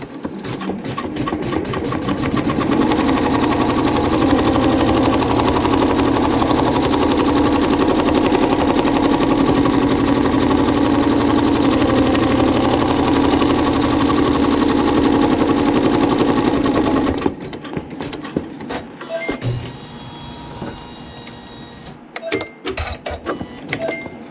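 An embroidery machine stitches a batik quilt block, a loud, steady mechanical whir and rapid needle chatter running for about seventeen seconds before stopping abruptly, leaving faint clicks and handling sounds.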